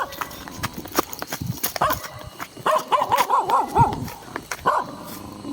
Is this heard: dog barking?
yes